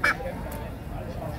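Geese for sale at an outdoor animal market give a loud honk at the start, followed by fainter calls against a busy background murmur.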